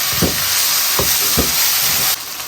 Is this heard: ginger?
yes